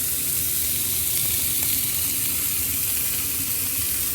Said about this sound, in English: All right, just flip the steaks over.